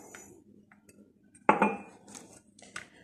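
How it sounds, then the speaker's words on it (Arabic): A utensil clinks and scrapes against a bowl of egg whites and sugar set over boiling water, with a sharp clatter midway and lighter scattered taps around it, close by and with no talking. "ونحرك حتى يذوب السكر نتاعنا"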